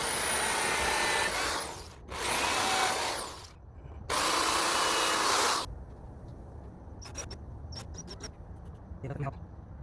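A power drill pre-drills holes in an old subwoofer box more than 25 years old, running in three loud bursts of whirring and grinding, each lasting one to two seconds, followed by quieter clicks and handling noises.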